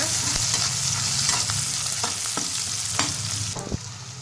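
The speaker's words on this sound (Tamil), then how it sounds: "போட்டு நல்லா வதக்கிக்கோங்க" Curry leaf chicken gravy base sautéed in a pan, a steady loud sizzle with a spatula scraping and stirring in irregular strokes, close up and without talk.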